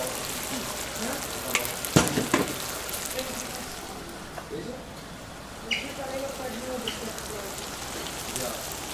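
Hot Javanese bami noodles sizzle and crackle in a pan, a soft continuous frying hiss broken by a few sharp clinks and stirring scrapes, fairly quiet throughout.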